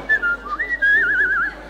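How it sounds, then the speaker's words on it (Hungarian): A person whistles a wavering, warbling tune close by, with short notes at first and then a longer trilling phrase, alone without speech. "Ilyen fütyülés, dadolászás"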